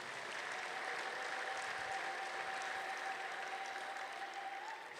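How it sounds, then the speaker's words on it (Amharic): A church congregation claps together in sustained, steady applause after a pastor's call during a sermon, a dense wash of hands that holds evenly for the whole stretch with no speech over it. "እባካችሁ አጨብጭቡለት"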